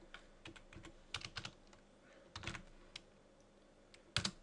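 Close, quiet keystrokes on a computer keyboard as a storage-system command is entered, coming in short bursts of clicks separated by pauses, ending with a firmer strike.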